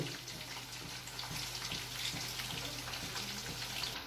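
Chicken fries in a pan with oil, giving a steady, close sizzle and bubbling crackle that runs evenly throughout with no talking.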